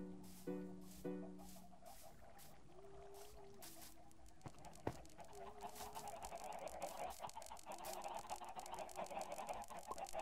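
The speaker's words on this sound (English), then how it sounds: "Rylan's just running around feeding the chickens so that they're making babies." Chickens cluck and croon on a farm at close range, a scattering of short clucks and drawn-out murmuring calls over a steady outdoor background with occasional knocks.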